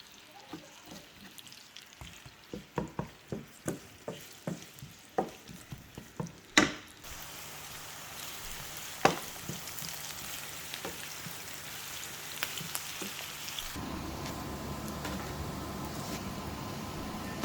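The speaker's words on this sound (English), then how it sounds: "First added the onion and frying." A run of taps and clinks from a utensil, then a steady close sizzle of onion frying in hot oil, continuing evenly to the end.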